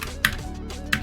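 Two sharp key strikes on a loud computer keyboard during a livestream chat, spaced well apart, close and clear over a faint background hum.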